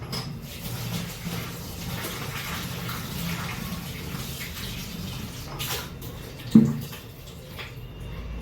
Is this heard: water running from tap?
yes